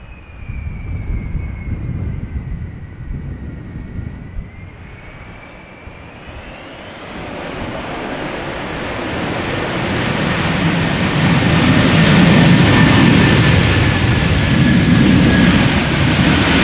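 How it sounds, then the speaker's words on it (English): A Delta Airlines airliner arriving from Detroit at Amsterdam Schiphol Airport produces a continuous jet engine roar with a whining tone, building steadily louder and broader as it nears, with some wind buffeting the microphone. "And this is Delta Airlines arriving from Detroit, Michigan."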